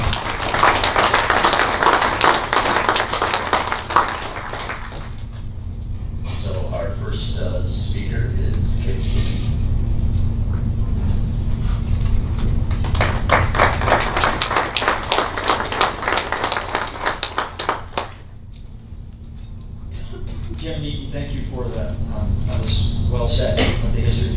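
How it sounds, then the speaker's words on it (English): Audience at a high school award ceremony gives a round of applause, bursts of many hands clapping in a hall that swell and fade between stretches of talk over a steady background hum. "let's give him a round of applause"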